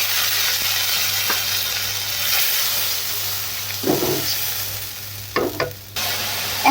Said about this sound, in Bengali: এবার সব রকমের মশলা দিয়ে দেওয়া হবে।